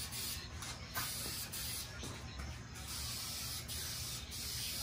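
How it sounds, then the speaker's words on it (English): Spray paint hisses continuously in a steady, close stream as a coat goes onto a car part for an Infiniti G37 paint match, with slight pulses as the nozzle sweeps. "This just sprays a lot better than that primer."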